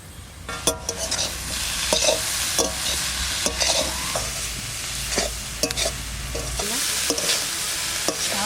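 Leafy greens with green chillies being stirred and fried in a pan, a steady close sizzle broken by repeated sharp scrapes and knocks of the spoon against the metal, with no voices.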